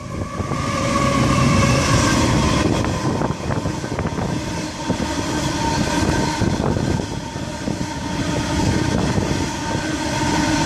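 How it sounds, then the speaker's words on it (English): An empty coal train led by a 2004 locomotive rolls steadily past close by, wheels clattering rhythmically over rail joints with a continuous rumbling roar. "we got an Horizon empty coal train about to pass."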